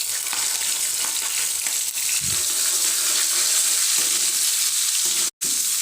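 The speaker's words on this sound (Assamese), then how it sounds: "এই গৰম তেলত এতিয়া মই দিম জিৰা লগতে দি দিছোঁ এয়া শুকান জলকীয়াটো আৰু দিছোঁ কুটি থোৱা পিয়াজখিনি" Cumin seeds, dried chilli and chopped onion frying in hot oil for an Assamese soybean curry, a steady loud sizzle running throughout with a brief dropout near the end.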